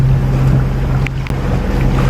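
A sailboat's motor drones steadily and close by on a calm sea off Martinique, a constant low hum with water and wind noise behind it and no talking.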